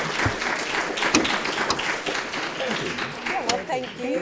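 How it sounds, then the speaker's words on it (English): Audience applause for panelists at a reading symposium, a steady crowd of clapping lasting several seconds with some voices mixed in. "please give our panelists a round of applause"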